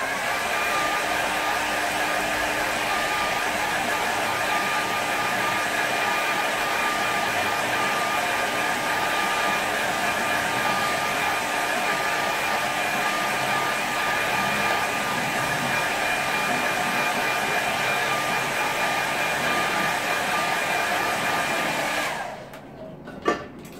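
A hair dryer blows steadily to dry a watercolour painting, a loud continuous whooshing drone for about twenty seconds before switching off with a click.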